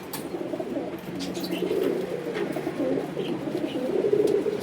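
Domestic pigeons from a seller's flock coo in low, rolling repeated phrases, with a few faint higher chirps above, close and steady throughout with no talk.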